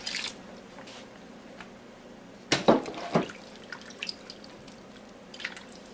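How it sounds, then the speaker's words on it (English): A few quick splashes of water land in a pan close by, two short bursts in a row, then quieter trickling sounds. "We're going to add 2 cups of water."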